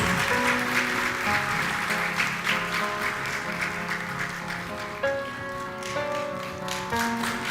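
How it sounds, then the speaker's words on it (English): An audience at a Turkish university honorary doctorate ceremony applauds steadily for several seconds, a dense continuous clapping under a sustained musical accompaniment, with no talk over it. "Alkışlarla, with applause please."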